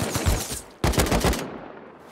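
Rapid automatic AK rifle fire in a video game, two loud close bursts of dense shots, the second starting sharply after a brief dip and cutting off into a short quiet tail.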